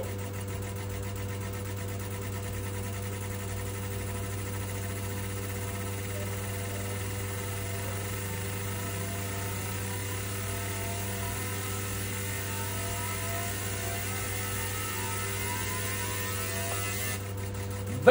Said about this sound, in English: This is how we properly clean the fuel injector using the ultrasonic machine and the analyzer